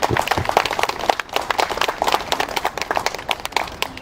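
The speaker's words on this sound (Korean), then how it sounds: "이 대목에서 박수 한번 주십시오." Scattered clapping from the audience at a founding assembly, with uneven bursts of claps close by, rising and dipping without settling into a steady roar.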